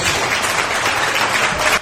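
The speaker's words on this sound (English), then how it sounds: "Give these gentlemen a round of applause as well as Coach." Audience applause for a high school boys lacrosse coach and players, steady and dense from start to finish without any talk over it.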